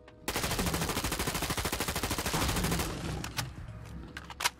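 An XM8 rifle fires on full auto in a Fallout 4 mod, a fast, even stream of sharp shots for a few seconds, followed by a few scattered single cracks and a louder final bang.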